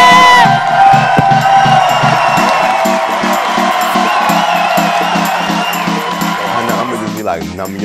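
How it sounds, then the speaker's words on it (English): Comedy club audience at a live stand-up show, loud sustained cheering, whooping and clapping from a packed room over a thumping music beat, fading slightly near the end. "keep clapping, keep clapping, and give it up for"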